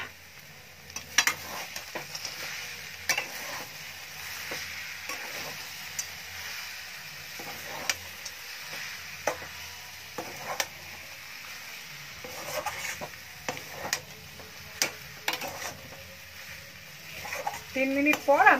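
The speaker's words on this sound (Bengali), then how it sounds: "এবার আবার একটু নাড়াচাড়া করে নেব এটা।" A vegetable mixture with chopped nuts and coriander leaves is stirred in a frying pan, giving a soft sizzle under repeated sharp clinks and scrapes of a utensil against the pan.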